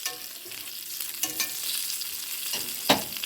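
Food frying in a pan, a steady sizzle with a few sharp clinks and scrapes as it is turned over, close and moderately loud with no talking.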